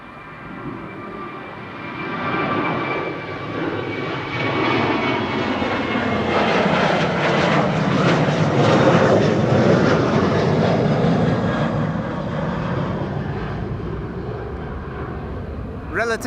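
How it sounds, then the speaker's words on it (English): A Boeing 737 narrow-body jet takes off from near the runway threshold at Amsterdam Schiphol Airport with a loud, broad engine roar that swells to a peak mid-clip and then slowly fades, while a voice talks over it. "It's not always a given when narrow bodies take off from near the threshold like this 737 did."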